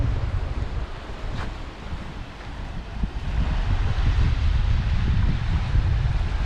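Sea waves breaking into foam on a beach at Didim, Aydın, a continuous rushing wash with wind buffeting the microphone, surging louder in the second half.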